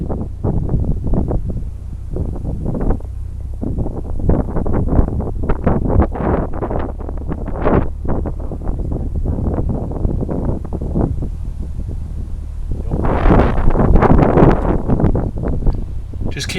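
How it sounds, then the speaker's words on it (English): Strong wind buffeting the microphone on a boat approaching a marina, loud rumbling gusts that swell and ease continuously, building to a heavier blast near the end. "here comes that wind"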